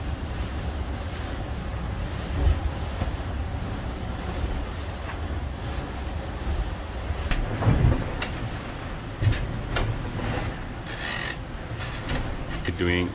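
Choppy sea waves slap and wash against a sailing boat while wind buffets the microphone, a continuous rough rushing with occasional louder splashes and thumps throughout.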